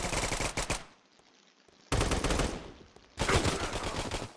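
Rapid bursts of automatic gunfire from a Roblox shooter game, loud and close, in three sustained volleys separated by a brief quiet gap, with a synthetic game-like quality.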